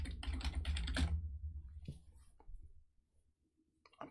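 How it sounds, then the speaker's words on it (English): Rapid keyboard clicks patter close by for about a second, then thin out into a few sparse taps with quiet gaps and a last light click. "Clicking on window."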